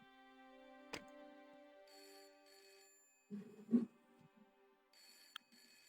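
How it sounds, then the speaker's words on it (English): Telephone ringing in the point-and-click video game Broken Sword: The Shadow of the Templars, heard as brief bell-like tones separated by pauses, with a few clicks and a soft thump in between. "Let's call him. Let's give him a ring."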